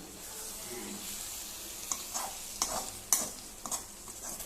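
Eggs with spring onion frying in a pan are stirred a few times, with soft scraping strokes and faint clinks over a quiet sizzle.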